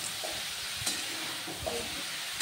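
Fried potatoes and vegetables crackle quietly in a pan as a spoon turns them, a short, fairly faint sizzle with a couple of sharp scrape clicks and no voices.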